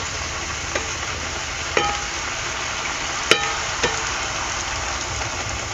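Kombdi vade dough frying in hot oil, a steady broadband sizzle that holds evenly throughout, with a few faint pops and crackles breaking through and no talking.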